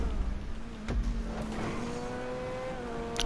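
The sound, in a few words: car engine from the video game GTA Online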